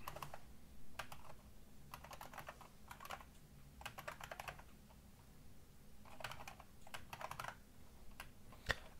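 Typing on a computer keyboard while writing C++ code, irregular bursts of quick key clicks separated by short pauses, close and fairly quiet with no voices.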